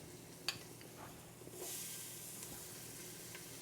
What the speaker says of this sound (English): when you're frying the spices, you're blooming them